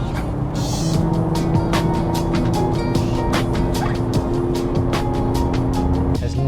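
A 20-year-old Porsche 997 runs steadily with a deep sports exhaust note around 2,500-3,000 RPM, close and loud throughout, with occasional sharp clicks and ticks over the drone.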